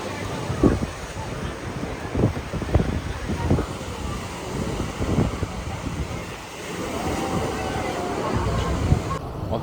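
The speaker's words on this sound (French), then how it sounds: "Le seul truc relou, c'est qu'aujourd'hui, il y a beaucoup de vent." Strong wind rumbles against the microphone in a busy seaside town in Albania, a steady low roar with gusty thumps, while people talk and chatter in the background.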